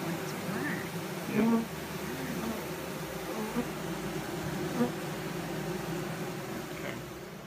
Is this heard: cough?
no